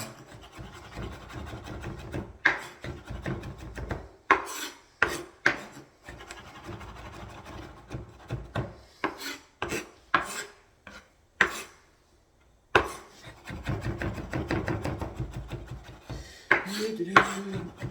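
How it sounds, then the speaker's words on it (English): A knife chopping garlic on a board for beef stroganoff, close, irregular taps and scraping strokes in uneven bursts with short pauses, fairly quiet and with no talking. "Probably quite boring watching someone chop garlic."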